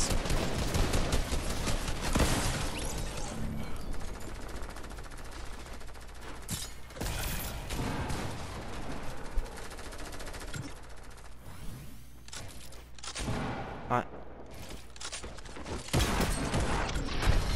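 Rapid bursts of gunfire and combat shotgun blasts from a Fortnite match at a pyramid location, loud and continuous throughout, dense overlapping shots with mechanical clicks and no talking.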